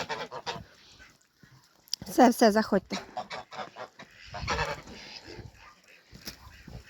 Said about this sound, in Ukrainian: Агресивний гусак. Оно, оно. Прям нападає.